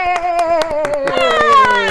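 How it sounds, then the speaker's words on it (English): Two actors clap for themselves on a studio talk show set, a short run of sharp hand claps under overlapping voices and cheerful exclamations. "Clapping for ourselves."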